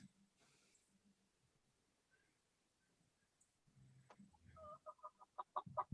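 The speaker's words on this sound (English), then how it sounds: "you keep those chickens quiet" Chickens cluck in short repeated bursts, growing louder and busier toward the end after a quieter stretch of faint background sounds.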